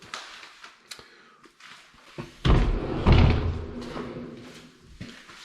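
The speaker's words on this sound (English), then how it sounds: "Yay, pocket door." A pocket door in a house under construction, with trim and baseboard work underway, rolls and thuds in its track with a loud knock in the middle, surrounded by fainter clicks and bumps.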